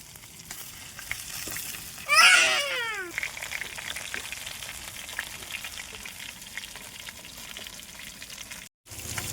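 Fish frying in a pan crackles with a steady low sizzle throughout, close by, while a cat's meow briefly rises over it early on.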